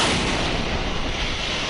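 Heavy blast from a rocket or airstrike impact in Gaza City, a dense, sustained broadband roar filling the whole stretch at close, loud level with no voices.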